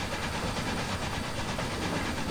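Dense, steady chuffing roar of a Harriman MC-1 2-8-8-2 steam locomotive's exhaust in the video game Trainz 2019, loud and continuous with a fast rhythmic pulse.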